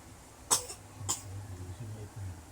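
A toddler coughs twice in quick succession, short bursts close to the microphone over a low background hum; the child has been coughing after a fall.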